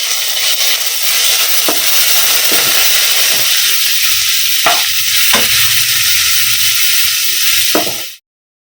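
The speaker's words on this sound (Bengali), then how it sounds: "আর তার সাথে পেঁয়াজটা ভাজা বসিয়ে দিয়েছি" Onion for an egg curry sizzles loudly in a pan in a home kitchen, a bright continuous hiss with a few sharp scraping stirs, close and unbroken until it cuts off abruptly.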